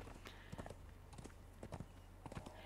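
Horse hooves trotting in Conan Exiles, a quiet, even clip-clop rhythm of several hoof falls over low background hum, without speech.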